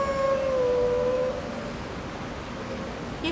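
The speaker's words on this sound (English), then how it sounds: "Here, this is my doggy, Savalok." A dog howls in the Skyrim video game, one long drawn-out tonal howl that fades after about a second and a half, followed by low ambient game background.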